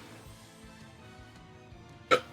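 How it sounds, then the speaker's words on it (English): Single short, sharp burp from a person after eating a burrito, one abrupt throaty burst near the end of an otherwise quiet stretch with faint room noise. "And a burp."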